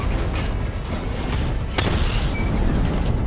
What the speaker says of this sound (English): If you leave now, the device will explode.